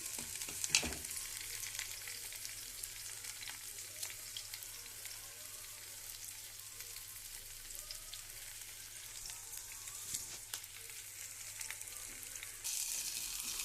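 Faint, steady sizzle of onion pieces frying in oil, a soft continuous crackle with a few light clicks, no talking.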